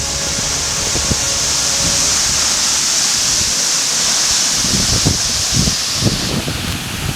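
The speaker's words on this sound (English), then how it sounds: "The water is really gushing down here" Asenema waterfall pouring down in strong wind, a loud, dense, continuous roar of rushing water close by, with occasional low gusty rumbles toward the end.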